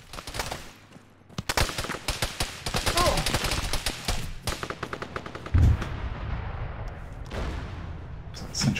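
Gunfire in Arma 3 during a King of the Hill match: loud bursts of automatic rifle fire and rapid single shots in clusters, with brief pauses between volleys.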